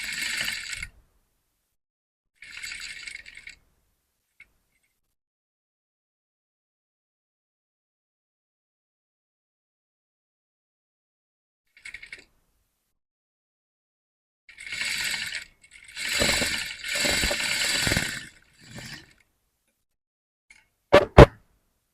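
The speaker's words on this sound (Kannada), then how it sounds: "ಈಗ ಇದನ್ನ ಟರ್ನ್ ಮಾಡಿ ಇನ್ನೊಂದು ಸ್ಟಿಚ್ ಹಾಕ್ಕೊಳ್ಬೇಕು." Short mechanical bursts from a sewing machine stitching a shirt collar: two brief runs, a long pause, then a longer stretch of rapid stitching and a couple of sharp clicks near the end, with no voice.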